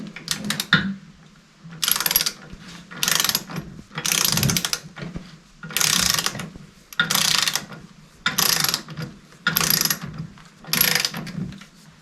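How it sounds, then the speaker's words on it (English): Wrench tightening bolts on a Kubota BH77 backhoe subframe fitted to an LX2610 tractor: repeated bursts of ratcheting clicks, about eight separate runs of a second or so each, close and fairly loud with short pauses between. "everything that you see me install right now, I'm going to torque it all to spec"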